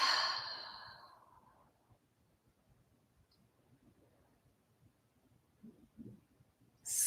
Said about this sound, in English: And we breathe.